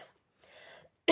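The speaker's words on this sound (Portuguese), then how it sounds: "Ai, começou a minha tosse." A single sharp cough bursts out at the end, loud and close, after a stretch of quiet breathy throat noise.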